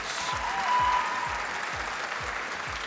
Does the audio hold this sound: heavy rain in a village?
no